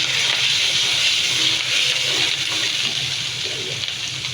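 Water gushes into a cooking pan of spiced mutton brain masala with cumin and turmeric, a steady, fairly loud hissing pour lasting several seconds without talk.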